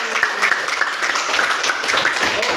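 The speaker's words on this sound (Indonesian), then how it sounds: "Tepuk tangan semua." Schoolchildren in a classroom clap together in a lively, fairly loud round of applause with distinct individual hand claps, and a few voices are faintly audible beneath.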